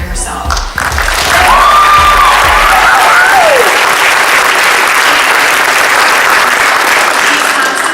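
A big, sustained roar of applause fills a film festival hall for a round honoring Ms. McCaffrey, dense and loud from start to finish, with a few cheers and whoops in the crowd after a brief moment of voices and thumps at the start.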